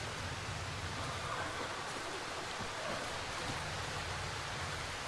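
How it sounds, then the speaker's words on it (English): Steady rain hiss in the game Darkwood, a continuous broadband wash with a low rumble underneath, even and unbroken throughout with no voices. "I know it's dry, but it's raining right now, so it should fill up, right?"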